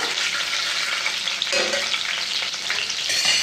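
Garlic cloves, curry leaves and two or three cut chillies fry in hot oil in a pan and get stirred. A steady, loud sizzle runs throughout, with a scraping stir stroke partway through.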